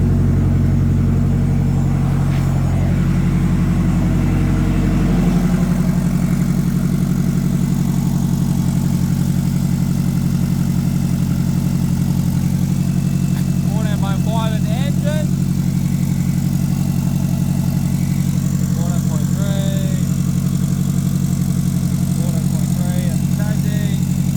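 A Mazda RX-7 with a newly installed alternator idles steadily and loudly, its rotary drone continuous throughout, while a few faint voices speak over it.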